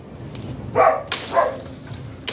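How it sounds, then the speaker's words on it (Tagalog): A dog barks twice, fairly close, in short sharp bursts outdoors behind a house where weeds are being cleared, with faint background noise between the barks. "Tapos sabay nakawala yung aso nila. Hinabol kami dito."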